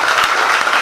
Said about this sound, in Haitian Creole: On gros applaudissement au pasteur